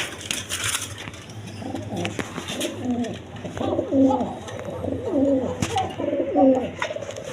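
Pigeons at a pigeon farm coo close by in repeated soft, rolling calls that overlap one another, with faint rustling and movement in the background.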